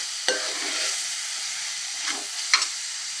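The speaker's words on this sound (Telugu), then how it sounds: "టమాటా మెత్తగా అయ్యేంత వరకు బాగా మగ్గించుకోవాలి." Tomatoes soften over a medium flame in a pan on the stove for a mutton curry, a close, even hiss of sizzling with a few brief stirring scrapes and taps, no voices.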